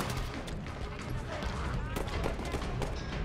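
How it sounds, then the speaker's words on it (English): Dense bursts of gunfire from the video game Halo 5: Guardians, rapid overlapping shots forming a continuous loud barrage of battle noise. "I hear some more gunshots."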